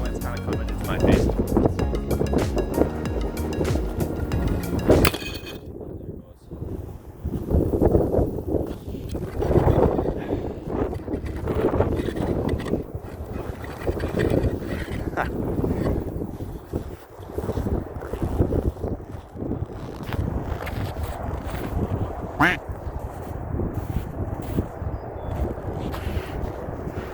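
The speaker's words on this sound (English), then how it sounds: "the wind's kind of coming into my face" Gusty wind buffets the microphone out on a disc golf course, a broad continuous roar that swells and drops across the whole stretch, loud and close, with a person talking over it.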